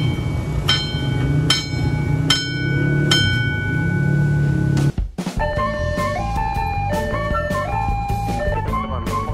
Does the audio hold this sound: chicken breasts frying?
no